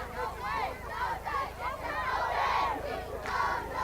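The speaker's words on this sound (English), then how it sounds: "Kuemper cheerleaders trying to get the crowd into the game" Cheerleaders and a crowd at a high school football game cheer and shout together in rising and falling waves, a loud outdoor roar of voices without distinct speech.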